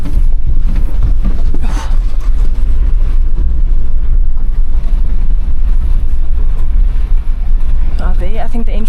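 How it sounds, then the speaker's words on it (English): Strong wind buffets a Suzuki Jimny crawling up a rocky mountain pass in South Africa in low-range 4WD, a constant heavy roar and rumble throughout, with people talking over it. "this wind is crazy"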